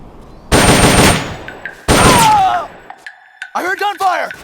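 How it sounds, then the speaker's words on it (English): Bursts of gunfire in the stealth action game Metal Gear Solid: Peace Walker, two loud, harsh rattling volleys close together, followed by short in-game tones and quick chirping effects. "I heard gunfire!"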